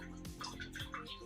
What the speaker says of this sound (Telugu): నీళ్ళ సౌండ్ ఎక్కువ వస్తుంది.